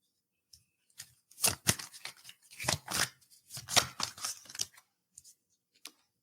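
Tarot cards being shuffled and drawn, a series of soft, crisp riffling and flicking bursts in uneven clusters, close and fairly quiet with pauses between.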